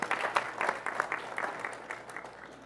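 Audience applause at a Microsoft technology presentation, a scattered, moderately loud patter of many hands clapping that gradually thins and fades.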